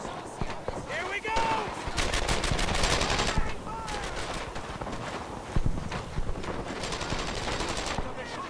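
Suppressing gunfire in the World War II video game Brothers in Arms: Earned in Blood, rapid rattling bursts of rifle and machine-gun shots, dense and continuous, with voices shouting over them.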